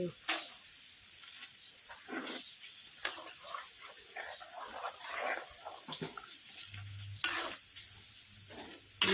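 Pork with curry paste being stirred in a frying pan, soft scraping strokes over a low sizzle, with voices talking over the cooking.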